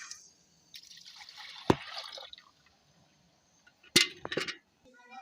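Milk poured from a container into a cooking pot (degchi) at home, a thin splashing stream with a clink of metal, pausing briefly before a second short pour, close and moderately loud with no talk.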